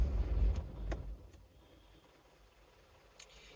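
A car passes nearby, its rumble fading away, with a few faint clicks and the low hum of road traffic continuing in the distance.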